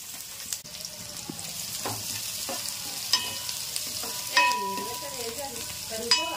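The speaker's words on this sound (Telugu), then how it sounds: "ఇప్పుడైతే ఉల్లిపాయలు వేసుకుంటున్నాను. అందులో పచ్చిమిర్చి కూడా వేసుకుంటున్నాను." Chopped onions and green chillies fry in oil in a pan for a chicken curry, a steady soft sizzle broken by scraping stirs and occasional clinks of the spoon, close and fairly quiet.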